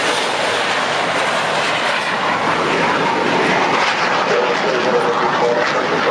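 Red Arrows jets flying in formation on departure give a broad, steady roar that holds at an even loudness throughout, with no talk over it.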